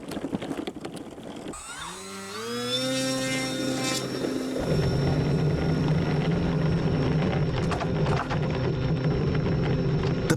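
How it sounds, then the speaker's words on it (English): Rotors of a giant gyro-effect model plane spin up with a rising whine, then settle into a steady, loud, close motorized drone with harmonic hum that holds through the end. "didn't quite get the rotors spinning very fast then"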